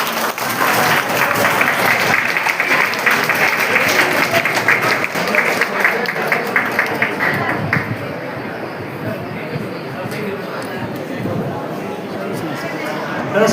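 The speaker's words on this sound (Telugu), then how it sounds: "చప్పట్లు కొట్టండి పిల్లలు" Children applaud in a loud burst at a district formation day celebration in Kurnool, with a stretch of continuous clapping that gradually thins while voices and crowd chatter mix in underneath.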